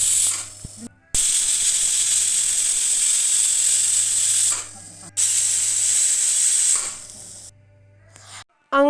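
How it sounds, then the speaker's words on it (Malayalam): A pressure cooker whistles while chicken cooks inside, giving three long, loud, hissing steam bursts separated by brief pauses. "കുക്കർ രണ്ട് മൂന്ന് വിസിലടിച്ചു"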